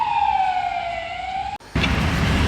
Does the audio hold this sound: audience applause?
no